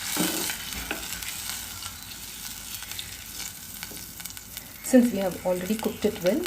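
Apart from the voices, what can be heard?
tamarind extract added to cooking elephant yam gravy on high heat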